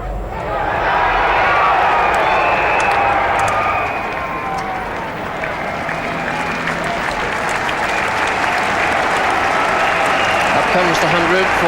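A crowd at a 1979 West Indies versus Pakistan cricket semi-final applauds an opening batsman's fifty, steady, sustained clapping that carries on for several seconds and spreads across the ground.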